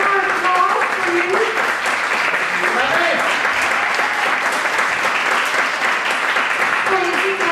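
A crowd applauds at a Cortina's Day event in Los Angeles, with sustained, even clapping throughout and voices talking over it at times.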